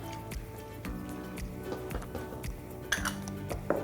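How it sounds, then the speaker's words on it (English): Sultanas and currants stirred into a bowl of spiced bun mixture, with a spoon clinking and scraping against the bowl in a steady rhythm, quiet and close. "Got sultanas and currants. We'll give those a stir."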